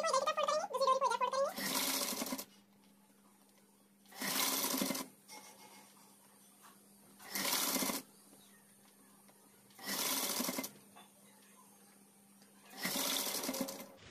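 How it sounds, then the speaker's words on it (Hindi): An electric sewing machine stitches palazzo pants in five even, buzzing bursts of about a second each, separated by quiet pauses. The bursts are close and steady, and a short stretch of speech comes before the first. "ये साइड की स्टिचिंग होने के बाद इधर की साइड की स्टिचिंग करेंगे।"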